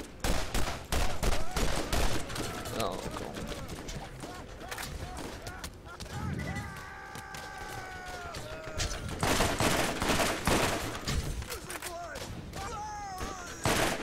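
Gunfire in the video game Borderlands: dense bursts of rapid shots and explosive cracks fill the stretch, easing briefly midway under other game sounds before the firing resumes loudly.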